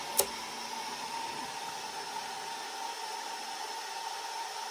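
A Snapmaker 2.0 A350 large 3D printer running slowly, a steady faint mechanical hum and hiss with a constant high tone, opening with one brief click and no talking.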